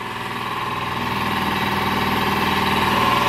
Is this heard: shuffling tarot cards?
no